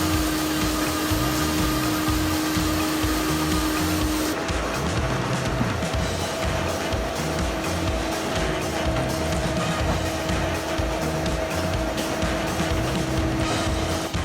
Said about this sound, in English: The Excavator sawmill, with its powerful engine and remarkable horsepower, is the ideal solution for mobile firewood processing.